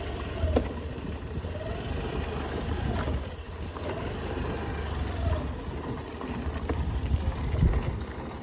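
A heavy tractor engine rumbles steadily at low pitch throughout on a dirt road, with faint rattles and clunks, no voices.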